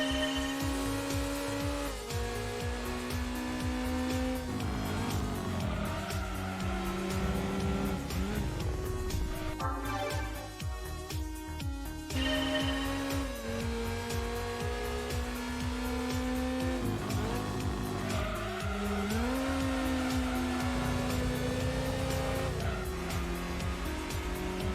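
A race car engine in Gran Turismo 2 on the PS1 revs loudly and repeatedly, its pitch climbing and dropping through gear shifts, with brief tire squeal in the middle and no voices.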